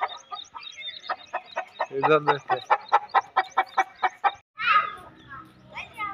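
Hens, including a broody hen being fed grain in the morning, cluck repeatedly in short bursts close by, with a rooster-like call among them and someone speaking briefly over the flock.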